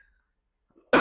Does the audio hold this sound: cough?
yes